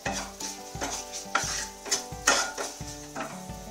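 Spiced samosa filling with green chilli and turmeric stirred in a pan, rhythmic scrapes of a spoon roughly every half second over a light sizzle, near and alone.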